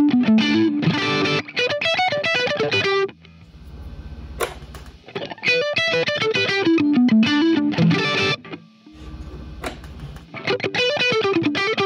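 Distorted electric guitar played through a Fryette Power Station PS100 with its presence control cut all the way down, loud sustained riffs with melodic runs and short pauses, no talk.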